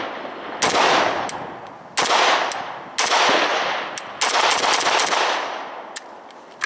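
An Arsenal SGL31-94 AK74 rifle firing 5.45x39 rounds in several loud, sharp bursts of rapid shots, each burst trailing off in a ringing echo, with short pauses between bursts and no talking.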